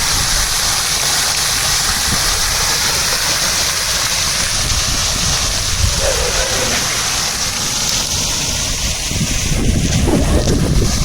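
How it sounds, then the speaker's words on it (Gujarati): Constant rushing spray of a water fountain mixed with gusty wind noise, loud and close throughout. "ફુવારાની નજીક આવ્યા એટલે પવનના હિસાબે મસ્ત જાણ પણ ઉડે છે"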